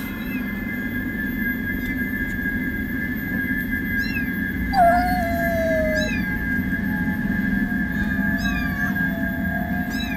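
A kitten meows repeatedly at a sacred cliff-side shrine, short rising cries spread across the stretch over a steady background hum, with one louder, longer drawn-out call in the middle.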